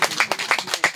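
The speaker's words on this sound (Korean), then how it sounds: "박수로 한번 맞아주시죠." A few people clap in an uneven rhythm to welcome a speaker at an outdoor residents' forum on a children's playground, about five distinct claps in a second, near and fairly loud.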